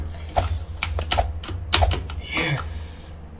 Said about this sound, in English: This mechanical keyboard is making a lot of noise.